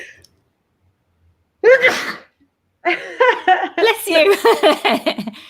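A single sharp sneeze bursts out, followed after a short pause by a person talking close by.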